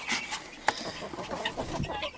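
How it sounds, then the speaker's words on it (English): Chickens clucking softly nearby, a few short clucks and murmurs scattered over a couple of seconds. "But here's the chickens. We're gonna let them out."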